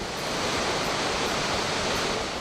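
Water rushes from dam floodgates into the Jaguaribe river, a loud, dense, unbroken roar of falling water heard close with no voices.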